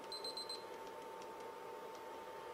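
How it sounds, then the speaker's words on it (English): A meat probe thermometer alarm chirps in a quick series of faint high beeps during the first half second, over a low steady background hum. "see the alarm go off? It jumped clear to 111 degrees."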